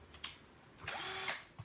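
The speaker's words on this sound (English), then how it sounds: "I also love this drill driver right here." Bosch 12V lithium-ion drill driver spinning up in a short whirring burst close by, with a couple of faint clicks before and after.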